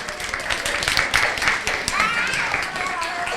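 Audience at a library open house claps for a young volunteer, a steady patter of hands running the whole stretch with talk mixed over it.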